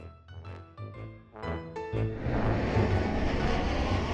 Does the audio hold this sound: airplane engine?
yes